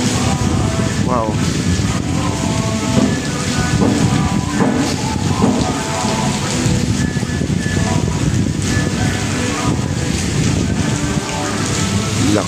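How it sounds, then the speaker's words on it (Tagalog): Heavy rain pours along the Pasig River esplanade, a loud, steady, dense hiss that lasts throughout, with music playing faintly underneath. "Lakas ng ulan at saka lakas din ng music."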